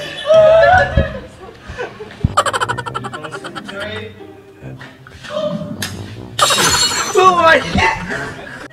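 A glass bottle shatters during a bottle cap challenge, a bright crashing burst amid loud excited shouting and laughter from several people nearby.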